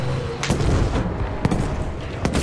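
Gunfire in the video game Battlefield V, three sharp booming shots spaced roughly a second apart over a dense rumbling battlefield background.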